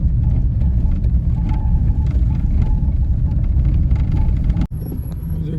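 A car drives over the rough off-road stretch of the Leh to Nubra road in Ladakh, giving a loud, steady low rumble that drops out briefly near the end.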